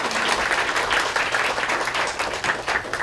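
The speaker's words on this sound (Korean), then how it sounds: "총무원장 스님께 큰 박수 부탁드리겠습니다" A large audience applauds at a Buddhist press culture awards ceremony, dense sustained clapping filling the hall loudly and evenly for the whole stretch with no voices over it.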